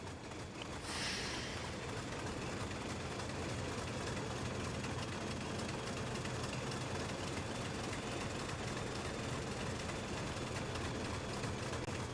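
Steady, loud diesel engine drone in the Teesdale & Weardale train in Train Simulator Classic, a continuous throbbing rumble that holds evenly for about twelve seconds with no talk over it.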